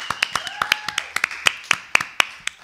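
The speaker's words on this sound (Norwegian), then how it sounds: "Applaus." A few people at a live evening show give sparse applause, a dozen or so distinct, fairly close hand claps in an uneven rhythm over a faint background tone.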